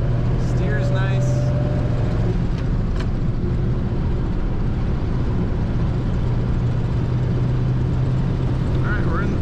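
A 1940 Cadillac Series 60 Special Fleetwood on the road, with a steady engine drone and continuous road and wind rumble heard from inside the car; someone talks over it.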